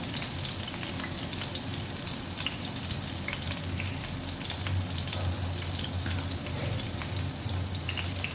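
Eggplant slices fry in a pan of hot oil, giving a steady, close, hissing sizzle that continues without a break and with no voices.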